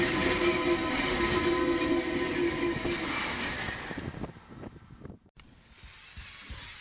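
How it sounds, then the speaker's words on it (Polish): A train rumbles past on the rails in Paris, loud and steady at first, then fading away, leaving scattered clicks and low noise. "Taki pociąg to jedno wielkie klik, klak, klik, klak"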